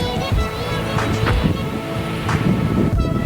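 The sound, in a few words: wind at the beach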